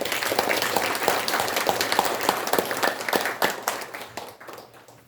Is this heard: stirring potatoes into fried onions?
no